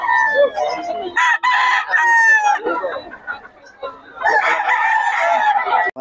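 A rooster, one of several kept chickens, crows loudly at close range in repeated calls, with clucking fowl around it and people talking in the background.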